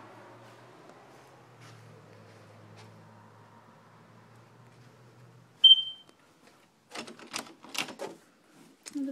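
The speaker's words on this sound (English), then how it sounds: "This one's going dead and beeping." A smoke detector with a dying battery gives a single short, shrill chirp indoors, surrounded by faint room noise and followed by some clattering and knocking.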